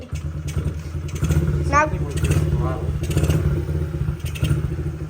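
A Honda CRF50 dirt bike that sat unused for five years idles close by with an uneven, chugging putter, while people talk over it.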